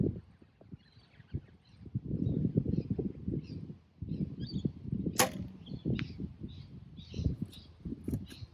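Arrows shot from a bow strike a target one after another, a sharp thwack followed by rustle. A louder crack near the middle stands out.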